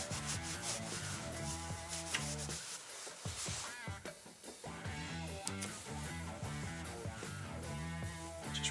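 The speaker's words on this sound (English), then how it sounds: "It's just a Scotch pad and a WD-40 just to do the final cleaning on this." A Scotch pad wet with WD-40 scrubs a Ski-Doo Rev XP snowmobile handlebar in fast, repeated rubbing strokes. The sound is close and quiet, with a brief pause in the middle, and no one speaks.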